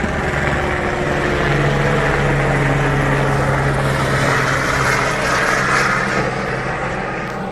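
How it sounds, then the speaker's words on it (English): A police helicopter drones loudly and steadily overhead, its rotor and engine noise filling the air without a break. "It's a police helicopter."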